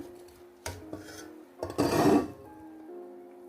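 Kabuli pulao rice scooped from a pot into a serving dish, a few scraping rasps of a spoon against metal with a clink, close and short, separated by quiet pauses.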